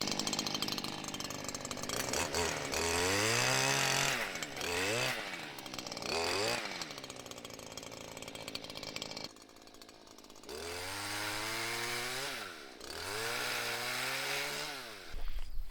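A Stihl Combi pole pruner cuts through tree branches beside a pond, its small engine revving up and down in long rising and falling bursts, loud and close, with a brief lull midway before cutting resumes.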